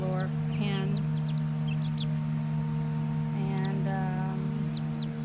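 Five-and-a-half-week-old pullets and cockerels, including Australorp, leghorn and buff Orpington birds, cluck and chirp in bursts close by over a constant low hum, with no one speaking.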